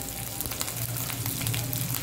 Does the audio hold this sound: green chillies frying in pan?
yes